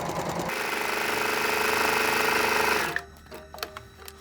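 An electric sewing machine stitches an apron in a fast, even mechanical whir for about three seconds, then stops abruptly, leaving a few soft clicks and taps.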